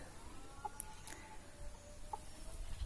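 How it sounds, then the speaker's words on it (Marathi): A mother hen with newly hatched chicks clucks a few times at a distance, short soft calls over a steady outdoor hum. "एक कोंबडीनं बघा पिल्लं काढलीत"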